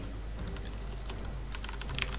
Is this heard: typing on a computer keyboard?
yes